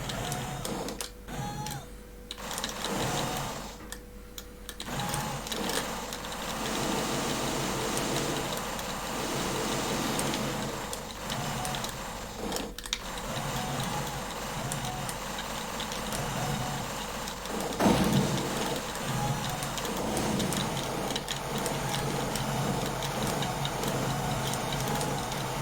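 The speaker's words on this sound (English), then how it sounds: "So we have this tank we are driving and shooting anyone who" Continuous electronic game sound from an Amiga vertical shooter where a tank drives and shoots, a dense buzzing mix of engine drone and repeated shot effects, steady and fairly loud throughout with occasional brief dropouts.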